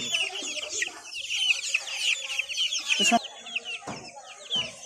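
Month-old Colombian Light Brahma and Buff Brahma chickens cluck and chatter continuously in a busy flock, with a few sharper calls and brief thumps breaking through the steady clucking.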